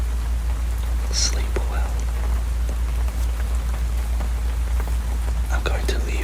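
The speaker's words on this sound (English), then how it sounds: "I'm going to leave you with the rain" Steady rain falls through a night storm, a dense continuous patter that runs the whole time with a deep low rumble underneath, while a soft whispered voice speaks briefly over it.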